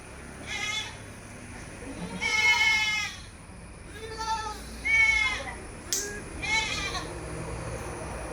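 Goats offered for sale bleat repeatedly at a livestock market, several wavering cries rising and falling over about eight seconds, moderately near over a low hum of background noise, with no talking.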